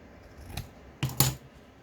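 Scissors cutting sewing material for a sampler journal: two or three crisp, short snips close by, with a quiet pause between them and no talk.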